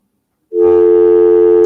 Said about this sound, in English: There's a dial tone yet, so something's working.